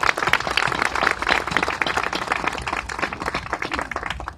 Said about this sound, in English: Let's give a round of applause to our partners at all levels.